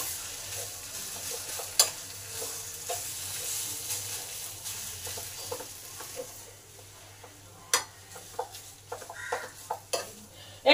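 Mashed potato being stirred with spices in a pan for aloo kulcha filling, a soft steady scraping and faint sizzle with a few sharper utensil knocks against the pan, close and fairly quiet.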